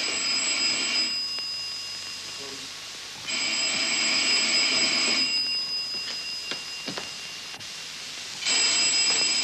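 An old-fashioned telephone bell rings in long metallic bursts with pauses between, loud and insistent, heard in a 1940s interior setting.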